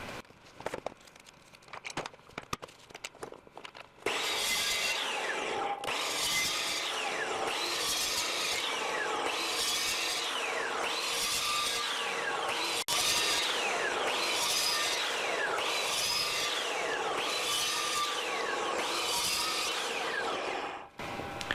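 Evolution metal cutting mitre saw running steadily and making a series of roughly ten repeated cuts in clamped metal stock, a loud continuous whine rising and falling with each cut after a brief start.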